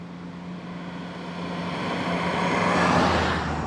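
A Maserati Biturbo Spyder's V6 bi-turbo engine runs steadily with a low, even drone, building slightly in loudness toward the end with a broadband rush, no voices over it.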